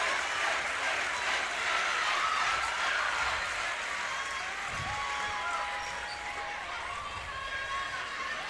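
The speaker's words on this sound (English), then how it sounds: "we hear the Geneva crowd chanting state" The Geneva crowd chants steadily at a girls' high school basketball super-sectional game against Boylan, a dense, continuous roar of many voices filling the gym with no pause.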